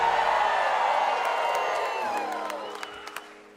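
A large Branson theatre audience cheers and whoops loudly in a dense, sustained roar that slowly fades, with a few claps and shouts poking through toward the end.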